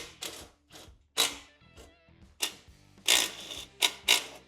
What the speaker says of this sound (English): next step is going to be removing these 1/2-inch bolts to free the muffler from the head pipe